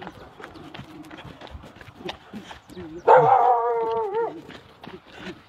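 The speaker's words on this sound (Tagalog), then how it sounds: "Kagalit yung aso. Takbo kami." An angry dog barks in a short, harsh burst of several loud yelps near the listener, after a stretch of footsteps and quiet movement while out jogging.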